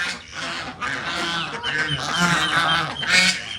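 White ducks at a farmhouse give loud, repeated honking calls, several overlapping voices close by, rising and falling throughout with no pause.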